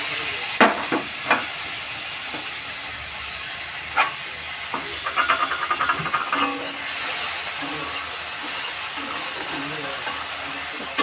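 Onion frying in a hot wok, a steady hiss of sizzling oil rising after the onions go in, with a few sharp clatters and utensil knocks, close and fairly loud.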